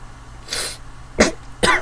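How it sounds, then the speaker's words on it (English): A sharp sneeze-like burst from a man sneezing and coughing at once, followed by two harsh coughs, close and loud, with a brief pause between each. "he sneezed and coughed at the same time"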